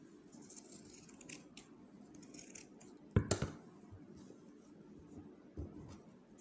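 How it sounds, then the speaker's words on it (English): Scissors trimming excess net on an Ankara fascinator: faint rustling of the net, then a couple of sharp, close snips near the middle and one more toward the end. "Trim the excess net out. Please make sure you don't cut the one that is down."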